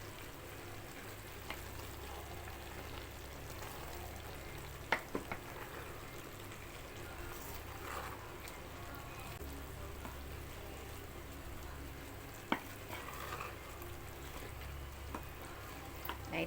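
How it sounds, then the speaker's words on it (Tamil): Biryani being stirred lightly in a pot, giving a faint, steady sizzle with soft scraping and a couple of small sharp clinks, close by and with no talk. "லைட்டாக ஒரு கிண்டிட்டேன்."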